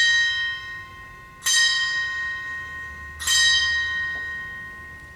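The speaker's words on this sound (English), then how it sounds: "The bell invites me." A bell tolls twice in a stage production of Macbeth, each clear ringing strike followed by a long, slowly fading hum, with no voices over it.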